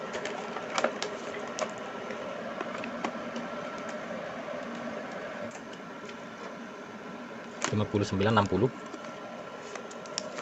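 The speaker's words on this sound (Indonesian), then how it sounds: "Suara kipas terdengar ya." A Multipro welding machine's cooling fan hums steadily, a constant whirring drone under someone speaking, with a few light clicks and taps.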